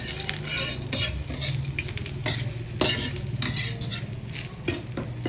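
Vegetables stir-fried in a little oil in a pan with chili peppers and mushrooms, a steady close sizzle broken by repeated scraping strokes of a utensil against the pan, with no voices.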